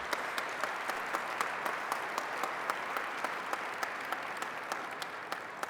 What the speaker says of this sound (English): Go ahead, you can clap, it's fine.